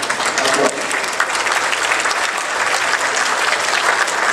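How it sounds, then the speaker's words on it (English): Audience applause fills a conference hall during a day-one electronics systems and technologies roadshow, steady dense clapping sustained for several seconds without a break, loud and close with no speech on top. "I think Amelie deserves our applause."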